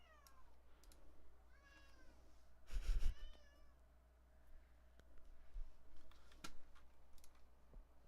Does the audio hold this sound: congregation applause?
no